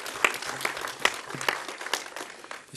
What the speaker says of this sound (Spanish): démosle un aplauso de bienvenida al doctor